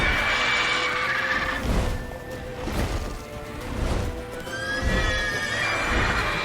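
Roach, Geralt's horse in the video game The Witcher 3, neighs and whinnies several times over clip-clopping hooves and constant game ambience, with no talk.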